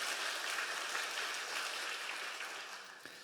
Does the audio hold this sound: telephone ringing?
no